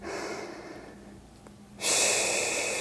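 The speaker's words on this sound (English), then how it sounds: "Let's just take a nice big breath. Inhale and exhale." Deep breaths drawn in and let out during a Pilates mat workout, a soft airy inhale fading to near quiet, then a louder, rushing exhale close to the mic, with no talking.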